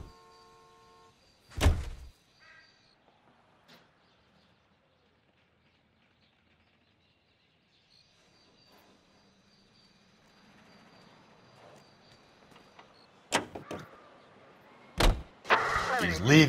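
Car doors thunk shut in the L.A. Noire game, two sharp slams early on, then a quiet low engine hum builds as the car drives off, with more loud door or impact thumps near the end.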